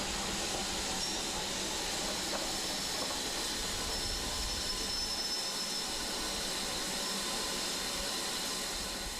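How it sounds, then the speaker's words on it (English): Steam train hauled by a Standard Class 4 locomotive on a heritage railway, a steady broadband rumble and hiss of the engine and carriages continuing throughout at moderate distance, with no voices. "the next train in is hauled by the Standard Class 4."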